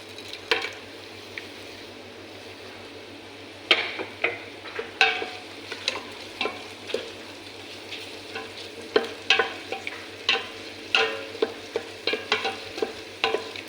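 White onion, garlic and a cinnamon stick frying in a pan for chicken kabsa, giving a steady low sizzle broken by repeated stirring scrapes and clacks, close and without talk.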